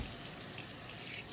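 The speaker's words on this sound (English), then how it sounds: "Put some water on these hands." Tap water runs steadily from a faucet over hands at a kitchen sink, making a continuous close splashing gush with no pauses.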